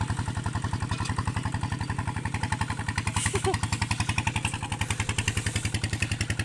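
A tractor engine runs steadily close by, its rapid even firing pulses forming a continuous chugging clatter with no talk over it.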